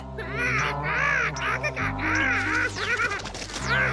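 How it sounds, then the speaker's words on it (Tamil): A cartoon crow caws repeatedly in loud, wavering calls, mixed with exaggerated comic effects and a brief crash, while animated characters speak over it. "நேரங்காலம் தெரியாம இந்த அண்டங்காக்கா என்ன பழி வாங்குது."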